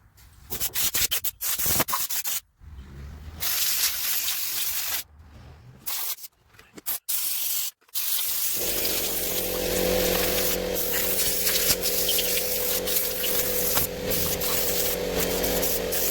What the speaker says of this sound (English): I think I'm going to blow everything off with the air compressor.